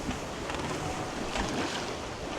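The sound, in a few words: sailboat gliding along under sail at about 6 knots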